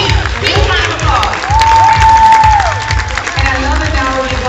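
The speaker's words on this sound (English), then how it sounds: "Big round of applause" An audience at a live speaking event breaks into applause and cheering, with a whistle rising above the clapping and a voice talking over the crowd.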